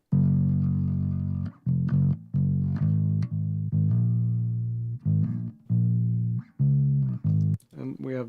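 Bass guitar tone through a bass cab effect channel in a mix, deep sustained notes in phrased runs with short gaps, heard alone and fairly loud, a voice starting briefly at the end.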